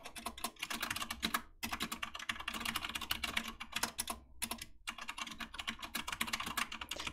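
Rapid, continuous clatter of keys on a computer keyboard as someone types out a long script, a dense patter of close, crisp clicks broken by a couple of brief pauses.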